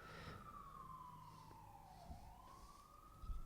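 A police siren wails in the Boxing Manager game, one slow falling and rising sweep heard at moderate distance over low rumble, with no voices.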